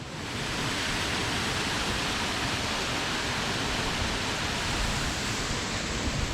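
Kester Hole waterfall, a steady, loud rush of falling water heard close by, with constant broadband hiss and no other sounds or voices.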